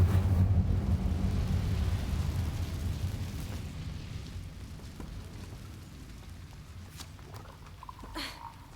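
An Incendio fire spell in Hogwarts Legacy goes off in a loud, rumbling burst that decays gradually over several seconds, followed by a few faint crackles and pops.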